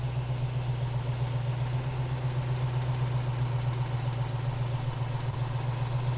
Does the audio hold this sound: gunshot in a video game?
no